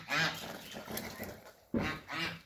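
Loud, nasal honking calls from crested ducks, several bursts with a short pause between them, close by and without talk.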